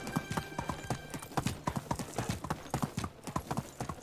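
Horse hooves clip-clop in a steady, close rhythm across a medieval village in Medieval Dynasty, a brief whinny-like tone in the mix, with no speech over the footfalls.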